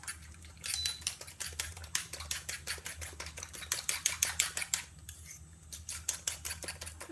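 Aubergine frittata ingredients for Filipino tortang talong being mixed together in a bowl, a fast run of sharp clinking and scraping strokes from a utensil against the dish, close and steady with a brief pause midway.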